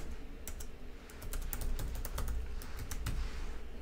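Keys clatter on a computer keyboard as a password is typed, a quick irregular run of sharp close clicks over a low background hum.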